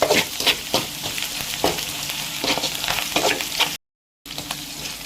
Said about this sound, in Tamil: ஆனியன் நல்லா ஃப்ரை பண்ணிக்கோங்க